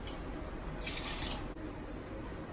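Water pours steadily into a pot of rice for a soya meal maker biryani, a continuous close splashing rush that briefly grows brighter in the middle, heard alone without speech.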